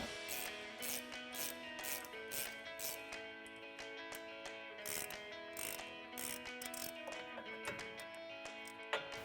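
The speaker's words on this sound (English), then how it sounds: "switch it out for your 1/2-inch ratchet and go ahead and finish taking them out" A 1/2-inch ratchet spinning out lug bolts on a 2019-2023 Silverado 1500 during a brake rotor job, rapid close clicking pawl bursts in short repeated runs with brief pauses, quiet overall and no talking.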